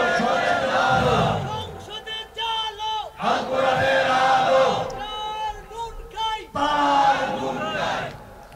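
A crowd at a religious gathering chants a slogan in unison, loud massed voices rising and falling in repeated phrases with brief pauses between them.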